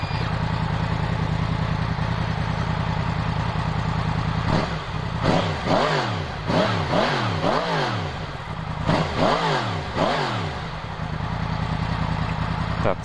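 A warmed-up Yamaha MT-10 (FZ10) on its stock exhaust idles steadily, then is blipped through a series of sharp rising and falling revs, about six close-range throttle bursts, before settling back to idle.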